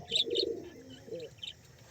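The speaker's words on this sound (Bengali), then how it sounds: "এটা আমার একটা পছন্দের খুব পছন্দের কবুতর" A pet pigeon cooing up close, a few soft throaty coos with thin chirpy overtones over about two seconds in a quiet setting.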